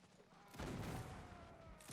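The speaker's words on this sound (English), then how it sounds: "And the cannon continuing to fire." Cannon fire in the Napoleonic battle game Mount & Blade: Napoleonic Wars, a heavy booming blast rolling into a long rumbling decay, with a quieter shot near the end.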